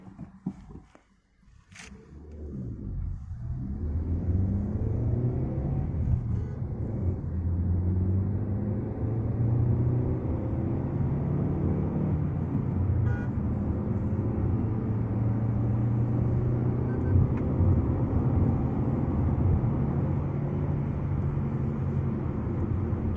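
Maruti Baleno facelift hatchback accelerating hard from standstill toward 100 km/h, a steady rising engine and road rumble heard from inside the cabin, continuous and fairly loud with no talking.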